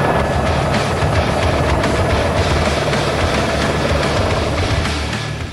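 A Military Police helicopter taking off in Aracruz roars steadily up close, its engine and rotor noise continuous and dense, slowly fading slightly toward the end.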